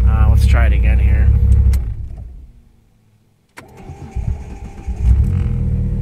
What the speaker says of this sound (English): it takes a little extra cranking when it's warm